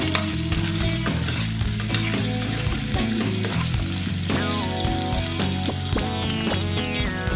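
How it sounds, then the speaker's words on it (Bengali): Potatoes fry in hot oil, a steady, dense sizzle running unbroken from start to end beneath loud background music. "লাল লাল করে আলুটাকে ভেজে নিব আমি"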